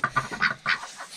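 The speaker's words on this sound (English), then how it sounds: "Okay, here we have the ducks." Several domestic ducks quack in a coop pen, a run of harsh, nasal calls in short bursts, fairly close and loud with brief gaps between them.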